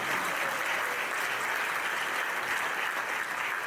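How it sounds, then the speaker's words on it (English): An audience at a Dallas conference applauds, a dense, even clapping that holds steady at moderate level throughout, with no voices over it. "Give him a round of applause, please."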